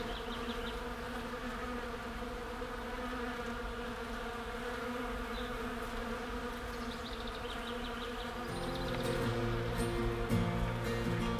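A steady, dense buzzing of many bees in trees on a farm fills the air continuously, with a slightly louder, fuller swell near the end; no one speaks.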